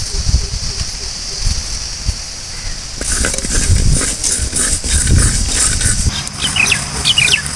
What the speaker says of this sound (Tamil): கடுகு நல்லா பொரிய விட்டோன்னே நம்ம எடுத்துக்கலாம்